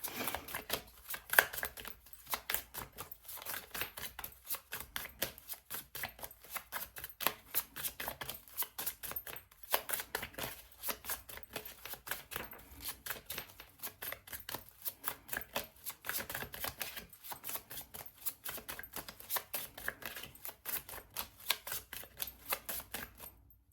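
Tarot cards being shuffled and drawn from a deck, a long run of rapid, crisp riffling and flicking clicks, close and fairly quiet, with no talking.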